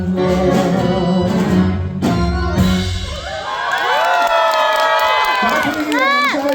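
A concert audience cheers and whoops for a Cantopop singer at a live show, loud crowd noise with shouts rising over lingering music at the start and continuing steadily throughout.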